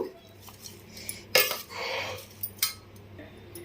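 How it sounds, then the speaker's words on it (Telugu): A spoon clinks and scrapes against a pan while cooked rice is stirred for mango pulihora, a few sparse metallic taps over a quiet kitchen background. "ఇప్పుడు మనం ఈ రైస్ని మంచిగా కలుపుకుందాము."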